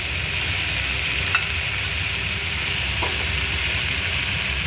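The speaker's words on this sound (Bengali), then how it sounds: "পটলটা দিয়ে আরও খানিকক্ষণ ভাজবো" Pumpkin and pointed gourd fry in a pan with no water added, a steady, fairly loud sizzling hiss running unbroken, with a couple of faint utensil taps.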